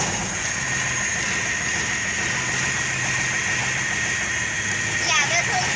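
A Cummins big cam diesel truck engine idles after a cold start, a steady close rumble with a constant clattering knock and faint whine, unbroken throughout.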